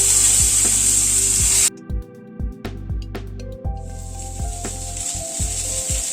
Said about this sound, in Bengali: এই তেলে আবার যে কটা আছে দিয়ে দিচ্ছি।